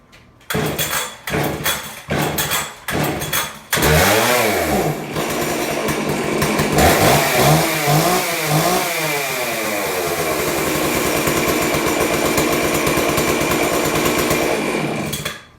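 A small gas engine, tugged by a pull cord in several sharp rhythmic yanks, catches and roars to life, then holds a loud, steady rev with some wavering pitch before dropping off at the end.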